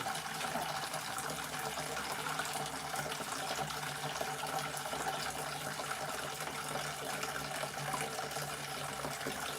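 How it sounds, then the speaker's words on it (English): Old vinegar and water left from cleaning a pan, pouring out in a faint, steady trickle and splash that continues without pause in a quiet outdoor setting. "this is just old vinegar and water that we used to clean the pan with"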